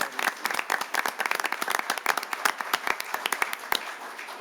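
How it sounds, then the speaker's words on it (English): Applause breaks out for firefighters at a city council meeting, a mix of sharp individual claps and a fuller crowd patter that stays lively before gradually thinning toward the end. "One more round of applause for these firefighters."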